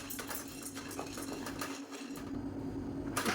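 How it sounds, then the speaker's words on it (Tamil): Barley grains roasting in a dry pan on a gas stove, stirred steadily, giving a continuous scraping, rattling clatter with faint metallic knocks, moderately quiet and close, no voices. "நல்லா வறுத்தெடுத்துக்கலாம் வாசனை வரும் அந்தளவுக்கு வறுத்தெடுத்துக்கலாம்"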